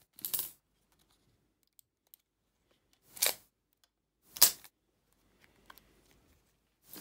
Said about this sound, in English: take out the memory card